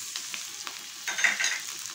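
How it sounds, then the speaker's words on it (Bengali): Chopped tomato and capsicum frying in a pan for egg fried rice, a steady soft sizzle with light stirring scrapes and a brief louder burst of crackle partway through. "দিয়ে আবারও 1 থেকে 2 মিনিট মতো এভাবে একটু ভেজে নেব।"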